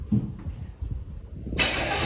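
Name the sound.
1977 El Camino engine cranking over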